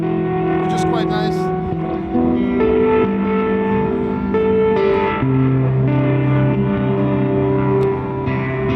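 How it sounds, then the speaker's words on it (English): Guitar played through a Gamechanger Audio Light Pedal on its spring reverb modulation setting, sustained chords and notes smeared with wobbling, shimmering reverb, loud and close, with talk faintly beneath. "So you get a spring reverb modulation sound, which is quite nice."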